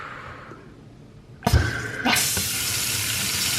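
A newly installed sink faucet is turned on after a clunk and then runs steadily into the sink, a loud, close hissing rush that keeps going with no talking.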